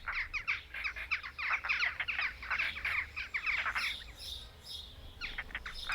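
A colony of jackdaws calls around its nesting sites in a dry Italian riverbed, a dense, continuous chatter of harsh, overlapping squawks at moderate distance.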